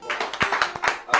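A studio audience on a Gabonese TV show applauds a singer with a quick patter of separate handclaps. The clapping is fairly light and close, and brief voices sound faintly beneath it.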